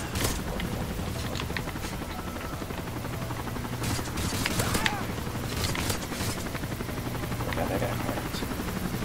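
A helicopter in the Call of Duty: Modern Warfare 3 video game gives a continuous, loud rotor thrum, mixed with scattered bursts of gunfire throughout.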